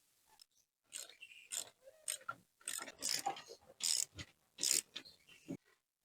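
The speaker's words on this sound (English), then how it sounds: "Insert the 1-inch bolt and fasten with the locking nut." A locking nut is fastened onto a 1-inch bolt on a Trac Seats suspension kit for a Gravely or Ariens zero-turn mower seat, with close, intermittent bursts of ratcheting metal clicks separated by short pauses.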